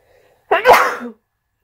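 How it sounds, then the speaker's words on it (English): A single loud sneeze up close, a quick sharp burst that ends abruptly, with silence on either side. "I gotta sneeze again."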